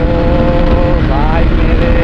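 A Bajaj Pulsar 220F motorcycle speeds along an empty highway, its engine a loud, steady close drone with rising revs, mixed with heavy wind rush and a rider's voice over it.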